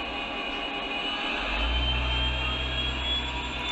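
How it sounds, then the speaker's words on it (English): A Lionel model train's supercharger sound effect winds up, a faint steady whine and hum whose low rumble swells and grows louder halfway through, with no talking. "You guys can hear that supercharger wind up."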